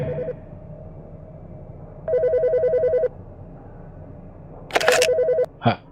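An old-style telephone rings in an animated horror cartoon set in an office at night, with two or three electronic bursts separated by silence, then a sharp click and a brief tone at the end.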